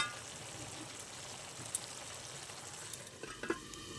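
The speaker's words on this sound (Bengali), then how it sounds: "নেড়ে আবার ঢেকে দেবো, চাল কুমড়োটা ভালো সিদ্ধও হয়ে যাবে।" Ash gourd curry simmering in a pan, stirred with a few soft scrapes and taps over a faint, steady sizzle, with quiet clicks toward the end.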